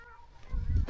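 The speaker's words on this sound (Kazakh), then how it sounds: "Қаздар ұшып кеп жатыр." Geese honk while flying in over reedy wetland on a fishing outing, a brief nasal honking that swells louder near the end of the short clip.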